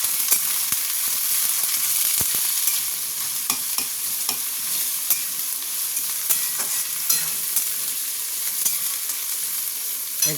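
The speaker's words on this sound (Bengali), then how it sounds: "এবার এটাকে আমি ভাজবো।" Carrots and beans stir-frying in a hot pan for vegetable chowmein: a steady, close sizzle runs throughout, with scattered stirring clicks and scrapes and no voices.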